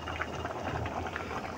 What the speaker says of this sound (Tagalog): Ay, kumukulo na.